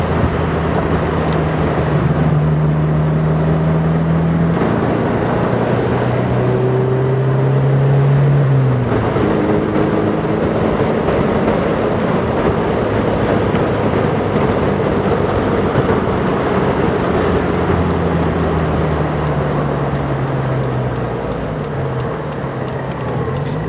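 A 1996 Morgan 4/4 1800 with a Ford gearbox drives along under heavy, continuous wind roar, the engine note rising and falling through gear changes, steady and loud throughout.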